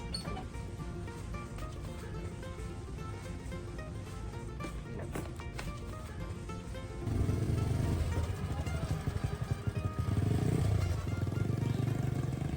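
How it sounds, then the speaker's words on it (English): A motorbike rides along a road carrying a small monkey on the back, its engine a steady close drone that grows louder and rougher midway, with no talk over it. "As the motorbike rolled down the road"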